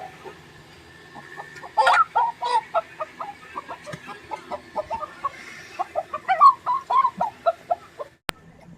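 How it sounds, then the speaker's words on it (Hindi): A rooster clucks in a rapid series of short, sharp calls, fairly close, with a few louder squawks among them over a quiet background. "मुर्गा आ गया, मुर्गा मुर्गा।"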